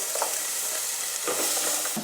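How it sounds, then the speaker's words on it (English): Garlic sizzles in hot oil, a steady crackling hiss close by, with a few soft stirring scrapes. "Garlic in first. Nice sizzle."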